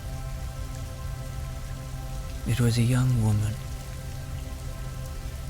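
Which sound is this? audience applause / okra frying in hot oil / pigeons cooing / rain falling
rain falling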